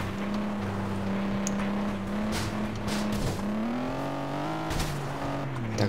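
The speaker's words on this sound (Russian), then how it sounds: "машина очень сильно заносит" Racing-game car engine in FlatOut 2 droning steadily as the car slides off-road, pitch wavering and climbing as it skids, loud and continuous with no talk.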